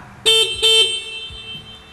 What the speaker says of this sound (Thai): อีกสัญญาณหนึ่งนะครับที่เป็นสิ่งที่สำคัญก็คือ สัญญาณแตร